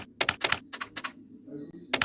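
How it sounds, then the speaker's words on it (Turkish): Keystrokes on a computer keyboard during a typing game come as quick clusters of sharp, close clicks separated by short pauses, with a faint voice murmuring in the background. "Şimdi yazıyorum bakın."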